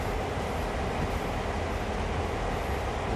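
A train rumbles and rolls steadily while reversing in the video game Train Sim World, a constant, dense mechanical drone with no breaks and no talking.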